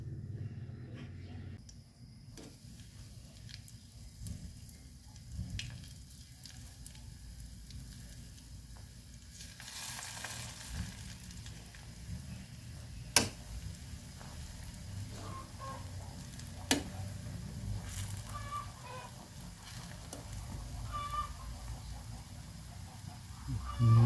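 Chicken necks frying in a pan of oil, a steady close sizzle with a few sharp clicks and pops, running on without talk.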